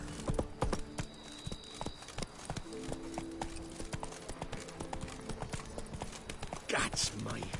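Roach the horse from The Witcher 3: Blood and Wine gallops with steady, rhythmic clip-clop hoofbeats, close and prominent throughout, with a voice talking over them.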